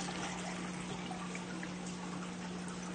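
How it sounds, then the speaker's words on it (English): Water is poured into a cup with a small hole punched in it so it drains into a second cup below, making a steady, even trickle that runs unbroken for several seconds at moderate volume. "I put a little hole right here in this cup. So when I pour water in, when I pour the water in, it should come out into this bottom one"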